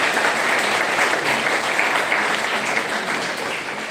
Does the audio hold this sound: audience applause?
yes